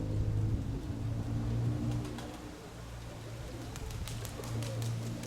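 Pigeons in a keeper's loft coo softly and repeatedly, low rolling calls close by and fairly faint, with light shuffling and faint clicks around them and no talking.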